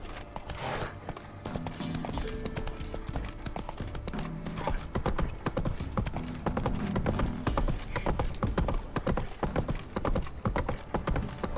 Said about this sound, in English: every horse I've ever owned would have put up a fight going over that rickety wooden bridge